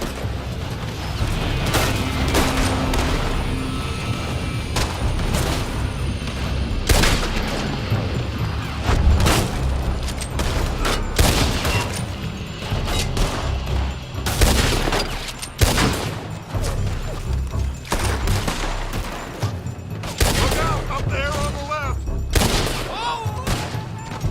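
Rapid, dense gunfire from a building in Red Dead Redemption 2, loud and continuous with overlapping shot bursts, booms and crashes throughout.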